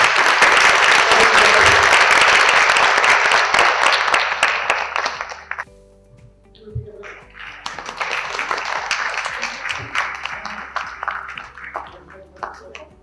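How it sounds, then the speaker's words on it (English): A dense round of applause fills a hall at a Lady Lawyers Day celebration, loud and sustained, then fading to a lull before a second wave of clapping and tapping swells again, with chatter underneath. "Can we have a round of applause?"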